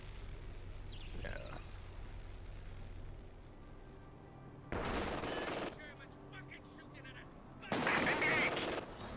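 Heavy artillery pounds in Company of Heroes 2: two loud, near blasts, each followed by a sustained roar lasting about a second, land several seconds apart over a low rumbling battlefield bed, with faint talk in the background.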